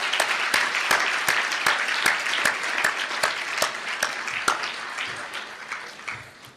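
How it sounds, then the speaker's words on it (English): Audience applause at a banquet, a steady burst of many hands clapping with sharp individual claps standing out, loud and close, slowly fading toward the end. "So let's give them another round of applause."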